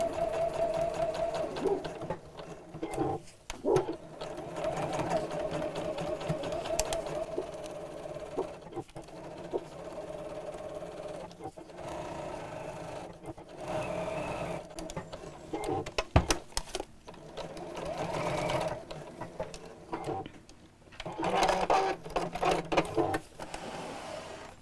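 Domestic sewing machine stitching around the edge of a fabric dress-up crown, running in close, even bursts with short pauses between runs, fairly near and alone.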